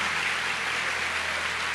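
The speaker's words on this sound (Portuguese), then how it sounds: "Aplauda ao Senhor." A church congregation applauds in praise during a worship service, a steady, dense wash of clapping that holds evenly throughout without pauses or voices.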